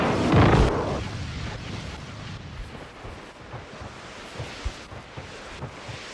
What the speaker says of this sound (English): Napalm deployed.